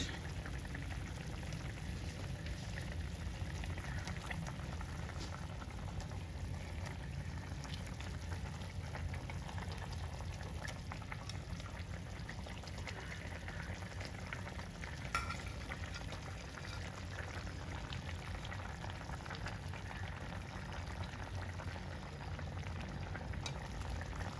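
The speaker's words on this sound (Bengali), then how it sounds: "সিম একদম টকবক টকবক করে ফুটছে, সিমের ঝোল।" A pot of broad bean curry for a fish curry bubbles and simmers steadily at a low, even level, a continuous soft boiling with occasional light pops, no voices.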